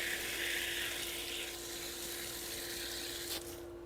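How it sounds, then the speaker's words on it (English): Water sprays from a 100-foot Lzcy garden hose as a steady, faint hiss that rises at first and then settles before trailing off near the end. "Then you can just shoot water out from here if you like."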